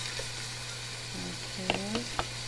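Garlic and onion frying and caramelizing in a pan, a steady low sizzle with a few sharp clinks of a utensil stirring near the end.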